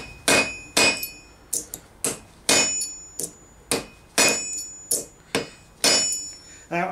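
Hammer blows on a steel punch lined up on a marked dot while making knuckle gadlings for a Gothic gauntlet, about a dozen sharp metallic strikes in an uneven rhythm, close and loud, with no talking.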